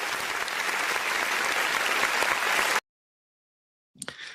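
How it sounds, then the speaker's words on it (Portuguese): A crowd gives loud, dense applause for nearly three seconds, then it cuts to silence before a short burst of sound at the end. "Uma salva de palmas."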